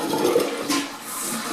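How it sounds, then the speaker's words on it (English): Toto toilet flushing from a freshly filled tank after its lever is pulled, a short close rush of water that swells briefly and then settles into a softer running wash, with no talking. "Okay, there's a little flush."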